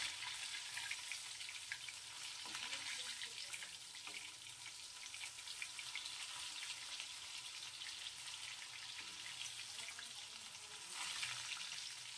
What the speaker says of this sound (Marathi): बरोबर फ्राय करून घ्यायचे।